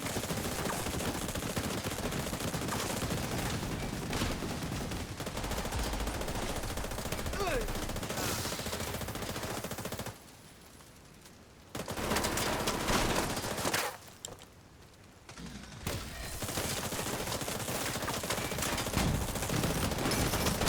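Steady bursts of video-game gunfire from someone shooting at things, dense and continuous, with two brief quiet gaps midway before the shooting resumes at full loudness.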